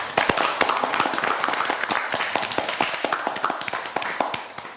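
A live audience at a Haitian reality show results announcement bursts into dense, sustained clapping, sharp overlapping claps filling the whole stretch at a steady, lively level.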